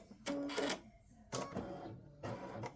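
An embroidery machine stitches out a pickleball design in three short bursts of rapid mechanical chatter separated by pauses, close and moderately loud with no talking.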